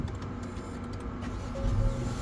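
An Acura Integra starting up: a steady engine and electrical hum that swells louder toward the end, with a faint tone entering partway through, close by and with no talk.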